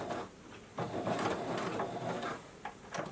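A home sewing machine stitches a fabric surgical mask with a small stitch setting, giving a steady, close mechanical whir that runs almost continuously, with a short pause near the start and a few brief louder bursts toward the end.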